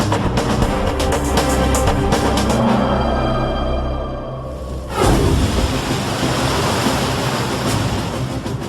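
Ocean waves surging and crashing in a tsunami setting, a steady loud roar of surf with a deeper rush swelling in around the midpoint, no voices.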